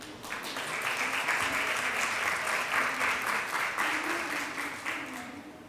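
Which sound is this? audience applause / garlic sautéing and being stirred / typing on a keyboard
audience applause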